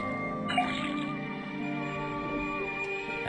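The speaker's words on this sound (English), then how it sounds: "First thing we then tap the faucet." A faucet in the Detective Grimoire swamp game drips and trickles, a close liquid gurgle with a few distinct drops over a soft watery tone, heard alone.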